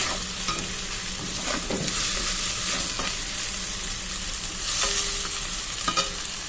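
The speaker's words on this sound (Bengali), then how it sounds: "এটাকে একটু নাড়িয়ে নিয়ে আবারও দিয়ে দেব।" Egg-free vegetarian chowmein noodles frying in a pan and being tossed, a loud continuous hiss and sizzle with occasional scraping stirs, close up and without speech.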